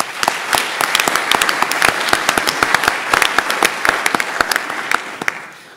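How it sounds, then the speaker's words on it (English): An audience at a bachelor graduation ceremony bursts into sustained applause, dense overlapping claps with sharp individual hand strikes standing out, steady for several seconds before thinning and fading at the end. "I think that deserves a huge applause."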